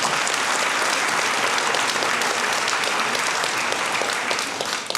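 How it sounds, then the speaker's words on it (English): An audience applauds at a live psychic demonstration and panel event, steady dense clapping sustained for about five seconds with no speech over it. "give him a round of applause"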